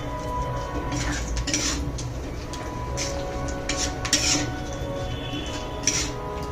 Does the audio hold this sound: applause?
no